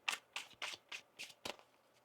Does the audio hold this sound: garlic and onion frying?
no